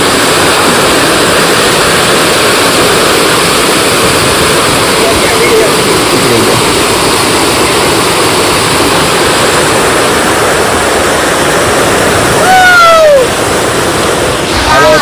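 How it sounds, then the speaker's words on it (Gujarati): A powerful waterfall roars in a loud, unbroken wash of rushing water close by, with a brief whistle-like sound near the end and voices faintly present. "છે ને બાકી જોરદાર ધોધ પડે"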